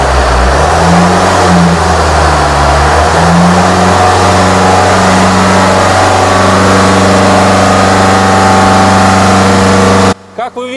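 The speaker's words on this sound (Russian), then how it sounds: "Как вы видите, двигатель завелся сразу" Diesel Land Rover Freelander 2 engine running after a fuel filter change, loud and close, with a rising and falling rev in the first seconds before settling to a steady hum that cuts off abruptly near the end.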